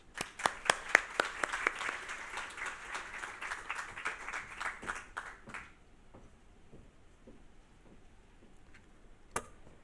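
An audience claps to welcome a speaker onto the stage at a youth leadership forum's opening plenary, moderate applause that fades out within a few seconds, followed by quiet with a single late clap.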